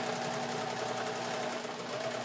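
Sewing machine stitching the cover of an extra large art journal, a rapid, even mechanical whir with a fast needle pulse running steadily and close throughout, no talking.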